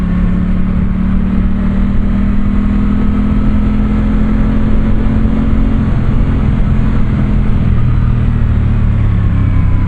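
An Aprilia Tuono 660 Factory motorcycle engine runs loud and steady at close range, a continuous droning roar with a sustained engine tone that shifts slightly in pitch, with no talking.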